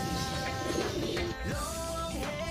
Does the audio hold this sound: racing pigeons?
yes